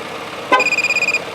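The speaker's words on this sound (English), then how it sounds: "the horn's going to beep because it's relearning it" A car horn gives a short blast, then a quick, evenly spaced run of about ten beeps while a tire pressure sensor relearns on the car. The beeps sound close and clear, with no talking.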